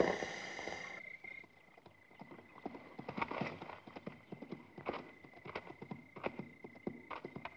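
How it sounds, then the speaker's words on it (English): Several horses' hooves clop in an uneven, busy rhythm in a 1976 western film, a posse drawing nearer and growing louder over a faint steady background tone. "There's a bunch of men on horses coming this way."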